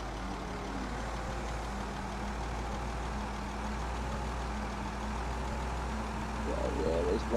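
Car engine in the Project Zomboid video game, a steady low rumble driving continuously at moderate level, with a faint higher tonal hum and a slight swell near the end.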